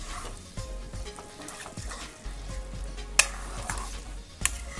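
Malabar spinach greens frying in a pan, with a constant sizzle under rhythmic stirring scrapes and a couple of sharp metallic clinks from the utensil against the pan, close and fairly loud, no talking.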